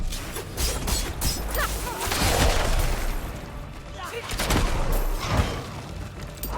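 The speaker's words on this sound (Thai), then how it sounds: "ชาโดว์มันจะระเบิด" A shadow explosion skill fires in the video game Diablo 4, with a rapid series of bursting blasts, whooshes and crashing impacts that swell and recede across the clip.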